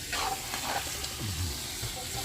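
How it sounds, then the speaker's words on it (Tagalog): Garlic sautés in hot oil in a pan, a steady close sizzle with light stirring scrapes running throughout, no voices. "Ayan, ginigisa na yung bawang."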